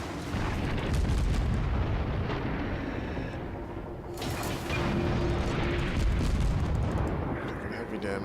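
Heavy naval gunfire and explosions in the World of Warships game, a loud, sustained roar of booms and rumbling blasts with mechanical clanks from a ship taking damage.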